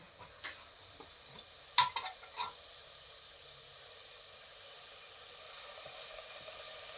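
A spoon stirs jaggery as it melts with ghee in a pan, with a short cluster of soft scrapes and light metallic clinks early on, then a faint, quiet hiss with no voices.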